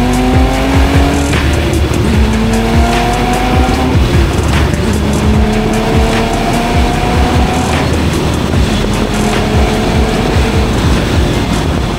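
A Gunther Werks twin-turbo car on open road, its loud engine revving hard and climbing through gear after gear in repeated rising sweeps, with a steady roar throughout and no voices.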